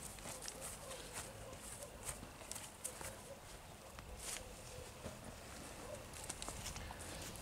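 A powerfully built horse with a moro (blue roan) coat walks on firm ground, its hooves clopping in a steady, moderate rhythm at close range over a constant outdoor background.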